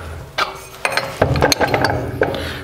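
A woodworking mortiser's head is lifted after its nut is undone, giving a series of close metallic clanks, ratcheting clicks and scraping mechanical knocks over a couple of seconds, fairly loud in a workshop.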